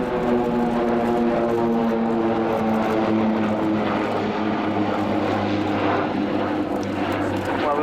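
Swiss Air Force PC-7 propeller aircraft fly at an airshow, a steady, loud droning buzz of prop engines holding evenly throughout with harmonic hum and no pauses.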